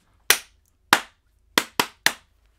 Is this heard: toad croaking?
no